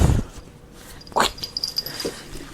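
A three-month-old puppy whimpers in short, high, nasal whines after a brief thump, close by and moderately loud in a quiet indoor room, with no one speaking.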